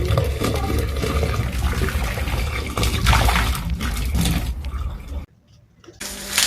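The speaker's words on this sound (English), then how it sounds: "I'm now going to go ahead and pour hot water inside" Hot water pours steadily into a kitchen sink, a loud rushing splash that runs for several seconds, briefly cuts out, then resumes.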